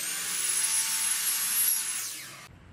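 A power saw makes a square 90-degree cut across wooden trim on a teardrop camper build, a bright high whine with a short grinding cut that runs about two and a half seconds, then stops abruptly.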